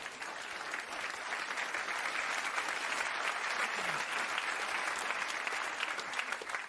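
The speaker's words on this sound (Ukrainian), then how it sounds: "Ні, ні, не треба оплесків." An audience at a stand-up comedy show applauds steadily throughout, with dense, even clapping from a large crowd and no clear talk over it.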